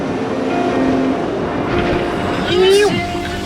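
A 4WD car drives along a sandy dirt track in Litchfield National Park, engine droning steadily from inside the cabin with rumbling and rattles and a brief rising whine near the end, a voice speaking over it.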